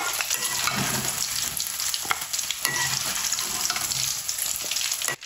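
Potatoes fry in a pan of oil with a steady, close, dense sizzle, broken by occasional stirring clicks and scrapes, continuous throughout with no talking.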